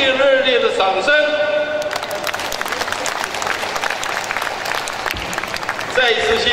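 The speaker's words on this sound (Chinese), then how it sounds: "请大家给他们以最热烈的掌声" A ceremony crowd at the founding celebration of an overseas Chinese calligraphers' association in Jakarta breaks into loud, sustained applause, with a speaking voice briefly before it starts and again as it fades.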